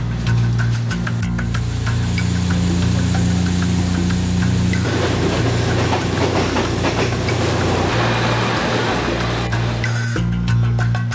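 Steady rumbling of a Thai third-class passenger train car rolling along rails, with rhythmic clacking and a constant low mechanical hum throughout.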